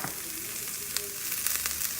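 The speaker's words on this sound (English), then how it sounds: "And let that simmer there for about 30 seconds or so." Garlic and vegetables sizzle steadily in a stir-fry pan, with a continuous close frying hiss and a few brief crackles, no voices.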